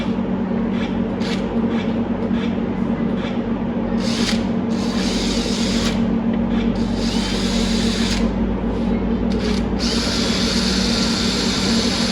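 A power tool cuts a hole in metal during work on a Chevy Stylemaster. It makes a loud, continuous grinding whir with bursts of harsher, brighter cutting noise throughout.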